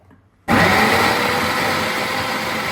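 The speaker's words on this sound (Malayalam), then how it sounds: "പച്ചമുളകും വെളുത്തുള്ളിയും സവാളയും എല്ലാം കൂടെ മിക്സ് ചെയ്ത് നമുക്ക് ഇത് വെച്ച് അരിഞ്ഞെടുക്കാം." A kitchen mixer grinder runs, chopping green chillies, garlic and onion together: after a brief quiet start it kicks on with a loud, steady motor whir and grinding rattle that holds to the end.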